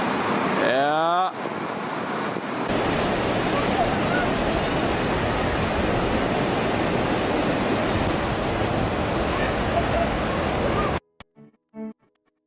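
Waterfall in Virginia dropping over jagged rocky cliffs, a steady broadband roar of falling water close by that cuts off abruptly near the end, followed by a few brief sounds.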